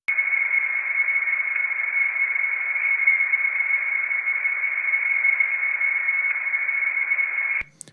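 A steady, sustained tone from an instrument built from sampled nature sounds, held for several seconds, slightly gritty and saturated with a washy reverberant character, cutting off abruptly at the end.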